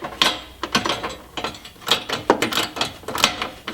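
A ratchet tightens the rear bumper bolts on a Jeep XJ, steel clicking in quick repeated bursts of pawl ratcheting, close and fairly loud with short pauses between strokes and no talking.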